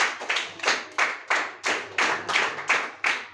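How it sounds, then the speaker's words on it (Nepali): Students clap in a steady rhythmic burst of applause for girls honoured at a school project-work prize event, each loud clap sharp and evenly spaced, with no talking. "ल एकचोटि बहिनीहरूको लागि जोरदार ताली बजाइदेऊ त सबले"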